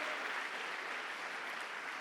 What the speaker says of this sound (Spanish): Si quiere aplaudir a Dios, hágalo esta mañana.